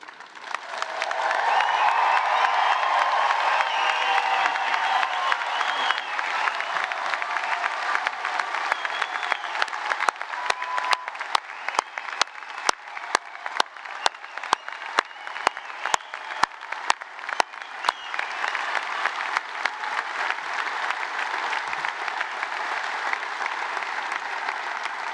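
Graduation audience at a Carnegie School of Sport ceremony in 2022 applauding and cheering: a loud, sustained wall of clapping from a large hall crowd, with cheers rising early, lasting the full stretch and hardly fading.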